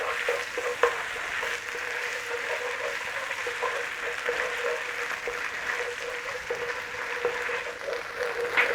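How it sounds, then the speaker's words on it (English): Tomato paste with chili flakes and paprika frying in a pan for a creamy Tuscan chicken dish, giving a steady broadband sizzle with occasional stirring scrapes, continuous and fairly close throughout. "A little bit of cooking on those spices with that tomato in there."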